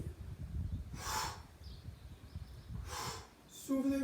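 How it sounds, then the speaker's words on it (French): Two strong breaths during a home gym leg exercise, inhaling on the way down and exhaling on the way up, close and audible over faint background noise. "J'inspire en descendant, j'expire en remontant."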